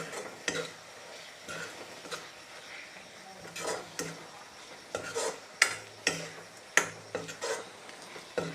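Tomato and egg masala curry is stirred in a pan after the lid comes off, giving repeated close scrapes and clinks of a utensil over a quiet, steady sizzle.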